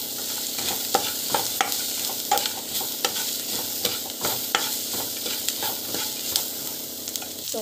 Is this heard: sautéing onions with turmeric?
yes